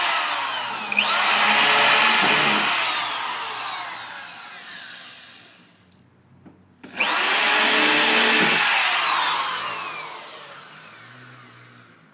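A power drill bores holes into the dented body panel of a Ford Mustang SVT Cobra in two loud, close bursts of whining drilling, each building and tapering off, with a brief pause between them.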